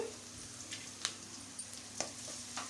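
Onions frying in hot oil for chicken noodles make a faint, steady sizzle, broken by a few sharp clicks and pops from stirring.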